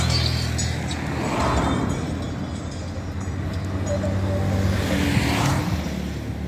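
On a village road in Kenya, a single vehicle passes nearby, its broad rumbling noise swelling and fading over several seconds against outdoor background sound.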